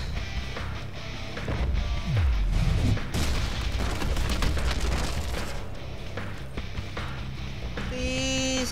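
Gunfire and booming explosions from the Deadpool video game form a dense, loud, continuous barrage, with a sweeping whoosh midway and a brief tonal ring near the end.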